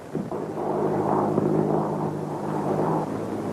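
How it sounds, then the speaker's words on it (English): A 1930s airplane engine rumbles steadily and loudly as it starts up for takeoff, a low continuous drone with no voices over it. "Start your motor and take off at once."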